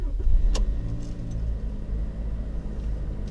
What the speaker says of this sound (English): let's see what a cold start sounds like from inside